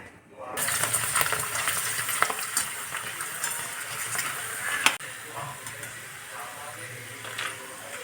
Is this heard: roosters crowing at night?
no